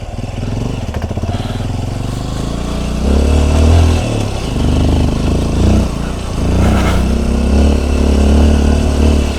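A motorcycle engine rumbles loudly and continuously at close range, its pitch rising and falling as the bike rides along a rural road past fields.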